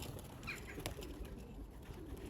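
Young 2022 racing pigeons on their first flight out give faint, brief wing flaps and soft bird sounds over a quiet outdoor background, with no voices.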